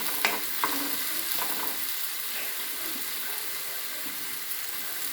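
Bottle gourd chutney mixture stirred while frying in a pan, a soft steady sizzle running throughout with a few light scraping clicks of the spoon near the start.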